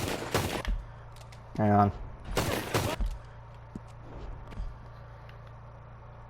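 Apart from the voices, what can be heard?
C-93 Borchardt pistol gunfire in Red Dead video game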